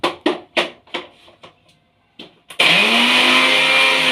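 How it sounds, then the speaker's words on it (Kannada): A kitchen mixer grinder whirs loudly and steadily as it coarsely grinds fresh mint, coriander leaves and green chillies. Several short knocks and bumps come first, then the motor starts with a sudden burst and holds a constant high-pitched roar. "ಈಗ ಇದನ್ನು ತರ್ತರಿಯಾಗಿ ರುಬ್ಕೊಳ್ಳೋಣ."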